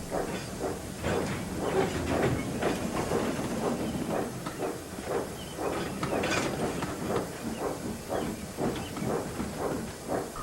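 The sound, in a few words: train engines pulling coaches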